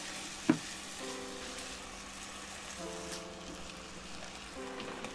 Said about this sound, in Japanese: 玉ねぎを炒めます。